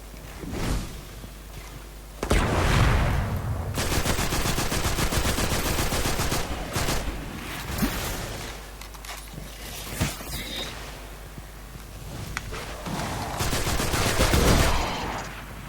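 Rapid bursts of gunfire from the video game Destiny, with machine-gun style volleys and single shots recurring across the span at steady loudness, no talk.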